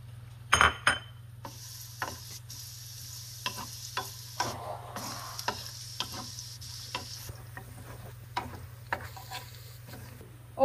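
Spoon stirring soup with imitation crab meat in a pot, giving soft scrapes and light clinks at irregular intervals over a steady low hum, close and fairly quiet.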